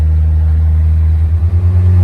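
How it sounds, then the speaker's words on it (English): A lowered Nissan D21 4x4 pickup truck engine drones steadily while driving, with a deep, continuous low rumble, close and loud throughout, with no voices. "I'm literally driving this truck right now, no vibrations."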